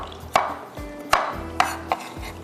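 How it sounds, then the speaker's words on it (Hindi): A knife chops garlic on a cutting board: about five sharp, close thuds at an uneven pace, each with a short ring after it, and no voices. "हम इसको लहसुन को भी चॉप कर लेते हैं इस तरह से"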